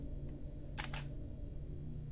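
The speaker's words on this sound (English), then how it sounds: "There is the clicking of a shutter." A camera shutter in the video game Dark Fracture clicks twice in quick succession, crisp and close, over a steady low ambient drone.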